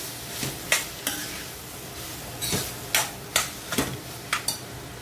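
Spoon stirring spices, periperi and Maggi masala and Schezwan chutney with paneer in a pan, a few sharp scraping clinks spaced irregularly over a soft background, close and moderately quiet.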